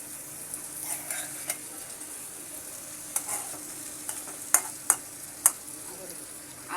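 Potatoes are stirred into rui fish curry in a pan, with a soft sizzle of frying underneath and several sharp scraping clinks of the spoon against the pan, growing louder toward the end.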